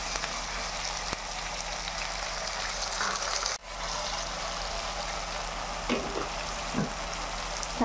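Tomatoes frying with ginger, garlic, cinnamon and clove paste in a pan for egg curry, a steady dense sizzle that briefly dips, with a few soft stirring scrapes later on.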